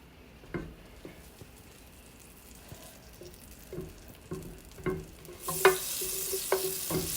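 Butter melts in a pan with a faint, steady sizzle, broken by a few soft scrapes and clinks of a utensil stirring, quiet and close.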